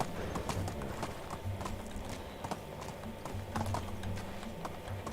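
Donkey hooves clip-clopping in Medieval Dynasty, a steady, fairly faint plodding rhythm of hoofbeats over quiet game ambience.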